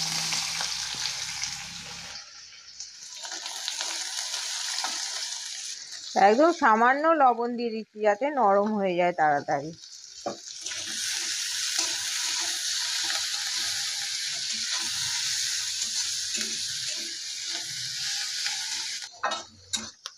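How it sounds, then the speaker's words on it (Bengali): Capsicum and carrot frying in oil in a wok give a steady broadband sizzle that fades to a few seconds of a voice speaking, then returns and runs on continuously near the pan. "আবার কড়াই তেল দিয়ে দিচ্ছি, এবার ক্যাপসিকাম আর গাজরটা একটু সামান্য ভেজে নেব।"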